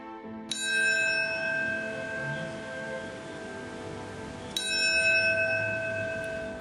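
Bells toll in remembrance of September 11th: two clear, bright strikes about four seconds apart, each leaving a long sustained ringing decay, with no talking.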